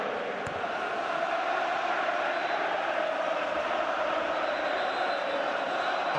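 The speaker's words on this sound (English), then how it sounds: "That's why we're champions, is the crowd's chant around Old Trafford at the moment." Football crowd chanting and singing in unison at Old Trafford during a Manchester United v Arsenal FA Cup tie, a steady dense roar of many voices filling the stadium, sustained and loud throughout with no break.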